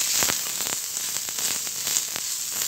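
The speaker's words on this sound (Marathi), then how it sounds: "कांदा लवकर भाजला जावा त्यासाठी थोडंसं तेल टाकायचं" Sliced onion frying in a little oil in a pan, a steady close sizzle with crackling pops throughout, no voices.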